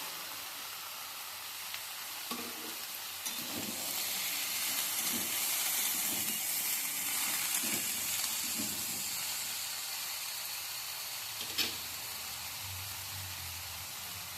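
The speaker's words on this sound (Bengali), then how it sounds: "যে ভেজে রেখেছিলাম সবজিগুলো যেমন আলু কাঁচকলা ফুলকপি এগুলো আমি দিয়ে দিচ্ছি" Fried potato, green banana and cauliflower pieces land in a hot pan of oil and spices for Bengali shukto, setting off a broad, steady sizzle and hiss that carries on for several seconds with a few clanks of a utensil.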